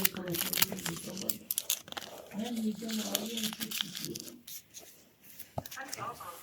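A package is torn open at a pizza unboxing, crinkling and ripping paper or plastic in short bursts, close by, while a person talks over it.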